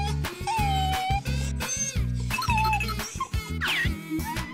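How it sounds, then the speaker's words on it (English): A cartoonish dog yipping and whimpering in short squeaky bursts over a loud, rhythmic musical backing, several calls in a row with a rising squeal near the end. "Dog."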